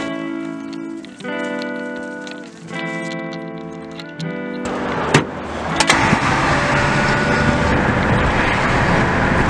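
Car interior on a drive into Maplewood in South Orange, New Jersey: a steady road rumble with a low engine drone, a few knocks and a sharp thump midway, then louder broadband tire and road noise as the car picks up speed.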